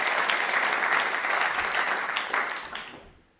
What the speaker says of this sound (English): Let's give a round of applause to all of you.